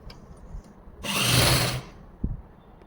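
Sewing machine stitching a salwar belt, running in a single loud burst of rapid whirring for under a second, with quieter fabric handling and a small knock around it.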